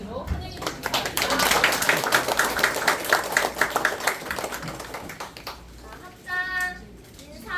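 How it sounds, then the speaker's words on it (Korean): Audience clapping fills a hall at a Buddhist anniversary gathering as a children's choir is welcomed onstage, steady dense applause tapering after about five seconds, followed by a brief burst of children's voices. "힘찬 박수로 환영해 주시기 바랍니다"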